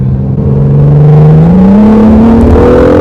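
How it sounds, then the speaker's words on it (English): A Honda NC1 NSX twin-turbo V6 accelerates on a main road, its engine note climbing smoothly and steadily, loud and close with a continuous whir and no talk. "So now we're gonna give it a little bit of gas down here."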